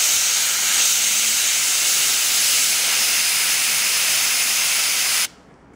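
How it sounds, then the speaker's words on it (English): An airbrush sprays paint onto the cloth parts of a Lizardmen Bastiladon miniature, giving a steady, close hiss that holds at an even level for about five seconds and then cuts off abruptly. "I've decided to paint all the cloths with the airbrush because it was just faster and better than the brush"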